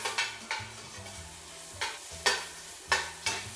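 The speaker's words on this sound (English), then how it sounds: "As soon as they soften, I will be adding the garlic" Sliced shallots, garlic and pepper paste sizzle in a pan for shrimp saganaki as a spoon stirs them in several quick scraping strokes over a continuous frying hiss, with soft background music beneath and no talking.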